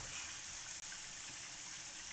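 Water runs steadily from a kitchen tap as vegetables are washed, a continuous soft hiss with one brief break partway through.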